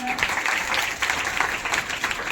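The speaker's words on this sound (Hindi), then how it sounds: "जोरदार तालियां हो जाए" Students at a school quiz competition applaud in a classroom, a steady patter of many hands clapping at close range, holding evenly for a couple of seconds with faint voices mixed in.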